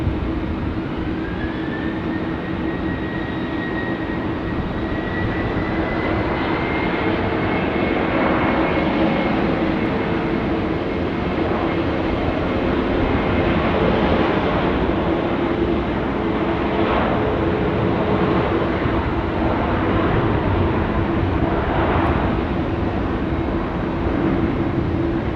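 Jet airliner taking off from runway 16 right at Sydney Airport, a loud, sustained engine roar with a rising whine, heard steadily from a distance throughout.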